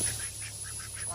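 Ducks quack close by, about five short nasal calls in a quick, even rhythm over a low background hum.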